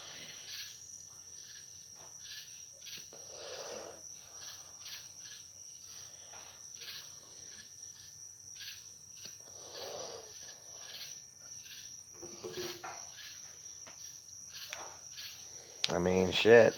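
Outdoor night chorus of crickets and other insects, a steady high shrill trill with faint frog-like calls mixed in, quiet and continuous throughout, with a brief louder knock near the end.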